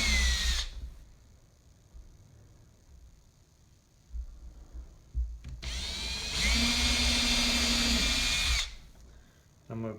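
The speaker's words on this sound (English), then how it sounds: "I'm going to pre-drill" A power drill with a 5/64 inch bit pre-drilling pilot holes for hinge screws in a wooden box, a short whir at the start, then a sustained close high whine for about two seconds near the end.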